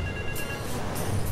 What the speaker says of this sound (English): That phone is really loud.